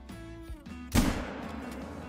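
A single loud rifle shot fired at a deer in the hunting game Call of the Wild, a sharp crack with a decaying tail that rings out over quiet ambient game sounds.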